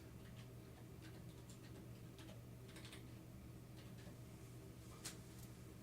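Soft, quiet clicking of keys in irregular bursts over a steady low hum, like light typing on a keyboard.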